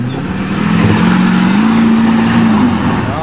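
Cadillac Escalade revving hard while mudding, a loud, steady engine drone with a rising and falling pitch held for several seconds, close and continuous with no talk.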